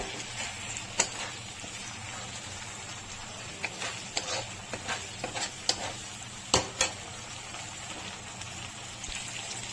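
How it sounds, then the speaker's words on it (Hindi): Masala spices for bhindi sizzle quietly in a pan while a spoon stirs them in scattered scrapes and taps, a low, steady frying hiss with no talking. "अच्छे से मसाला भूनना है इसका।"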